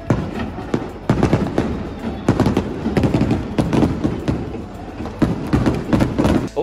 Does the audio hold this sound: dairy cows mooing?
no